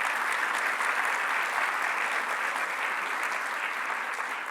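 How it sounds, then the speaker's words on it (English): Audience at a mining and metals industry conference breaks into quick applause, a steady, even wash of many hands clapping from start to finish with no speech. "we should just pause to give a quick applause for that"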